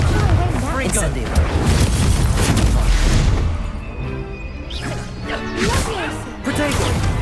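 Incendio fire spell cast during combat in Hogwarts Legacy: loud whooshing bursts and crashing impacts layered over busy game sound effects, with a voice talking over it throughout.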